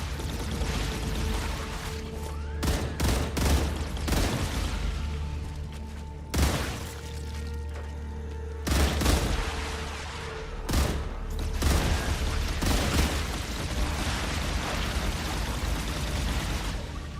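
Automated turrets in the video game StarRupture fire sporadically, loud sharp blasts and short bursts cracking out at irregular intervals over a constant low droning hum.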